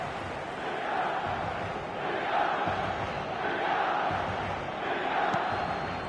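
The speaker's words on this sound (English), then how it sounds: "the crowd level has gone up a notch or 10" A football stadium crowd roaring after a Milan goal, a dense, sustained wall of distant voices rising and falling in waves, with faint commentary underneath.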